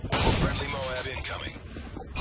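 A single loud, close shotgun blast goes off at the start of a Modern Warfare 3 Infected match, then fades into a rumbling tail as game sounds and voices continue.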